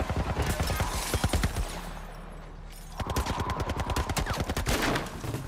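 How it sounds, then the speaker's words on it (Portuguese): Rapid bursts of gunfire in The Last of Us Part 1, sharp repeated shots in dense volleys, a pause of quieter ambience in the middle, then another sustained stretch of loud firing. "Que merda, eles estão atirando em nós!"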